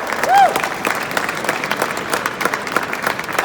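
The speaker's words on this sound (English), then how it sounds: "Big round of applause." Audience applause at a mini car show in Bingley Hall, a dense steady patter of many hands with faint crowd murmur and a few voices mixed in.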